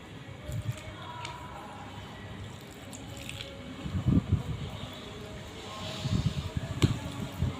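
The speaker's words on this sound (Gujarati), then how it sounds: "હવે આપણે થોડું પાણી રેડી અને લોટ બાંધશું." Small amounts of water are poured and splash into maize flour as dough is kneaded by hand, with wet squelching pats and dribbles coming in short, close bursts.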